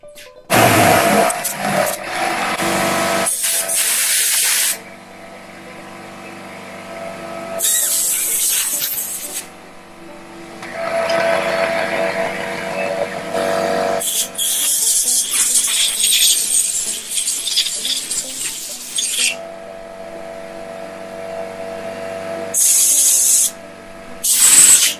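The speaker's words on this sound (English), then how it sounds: "See if I can blow that out with the air compressor." Loud bursts of compressed air hiss and roar in repeated blasts as an air compressor blows out a 1973 Evinrude outboard carburetor, separated by quieter stretches of low mechanical hum.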